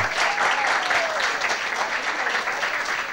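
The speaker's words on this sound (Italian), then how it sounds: "Facciamogli un grande applauso" Steady applause from a group of people, continuous clapping filling the whole stretch at an even loudness.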